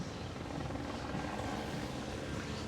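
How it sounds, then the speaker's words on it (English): A helicopter passes overhead above Leimert Park in Los Angeles, its rotor and engine giving a steady, moderately loud broadband rumble that carries through the whole stretch with no speech. "We've got a helicopter overhead."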